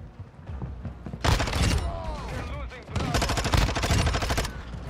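Rapid bursts of automatic fire from a Vaznev 9K rifle in Modern Warfare 2, loud and close in two sustained volleys with a brief lull between, layered with game effects.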